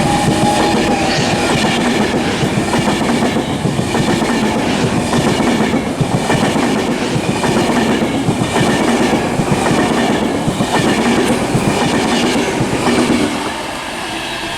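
A Virgin Trains Pendolino runs through Liverpool South Parkway station on the West Coast Main Line. It makes a loud, sustained roar with rhythmic clickety-clack from the wheels, which eases slightly as the train clears at the end.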